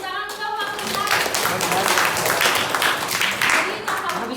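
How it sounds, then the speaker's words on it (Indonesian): Applause from a seated audience at a university teaching-practice exam session, steady clapping lasting several seconds with voices speaking over and around it. "Tepuk tangan untuk Pak Rizal."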